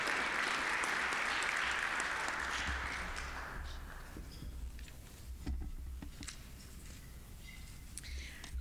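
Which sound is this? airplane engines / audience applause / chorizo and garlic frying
audience applause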